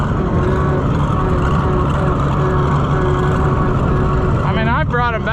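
An Oliver Super 77 tractor engine runs steadily and loudly while being driven, with a constant low rumble throughout and a voice speaking briefly near the end.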